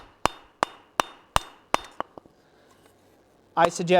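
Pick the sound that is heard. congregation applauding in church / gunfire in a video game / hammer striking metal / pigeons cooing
hammer striking metal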